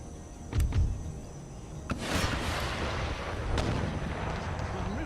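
Artillery fire in Empire Total War on a Great Britain campaign battlefield: a few faint, distant booms and thuds over a low, steady battle rumble.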